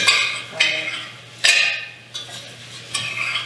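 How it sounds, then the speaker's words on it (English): Mushrooms being stirred with garlic, ginger and oil in a pan, the utensil scraping in several separate sweeps with quiet gaps between them and a faint sizzle underneath. "you want to stir that around as well, because now you're going to coat our mushrooms with the garlic, ginger, and oil that's in our pan"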